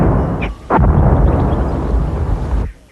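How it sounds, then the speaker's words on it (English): Serb mortar rounds exploding nearby in a Kosovo conflict zone, heard as a loud sharp blast followed by a heavy sustained rumble that cuts off after a few seconds. "I've counted about 12 Serb mortar rounds in 30 minutes"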